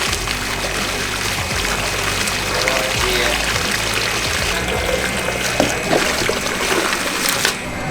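Wort from a Bohemian Pilsner brew pouring steadily into a brewing tank, a loud continuous rushing flow with pump-like hum in a brewery.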